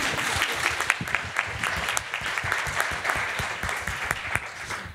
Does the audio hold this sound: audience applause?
yes